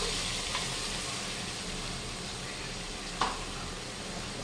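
Spices and salt sautéing in plenty of oil for a vegetable biryani, a steady soft sizzle with a couple of faint scraping touches, no voices.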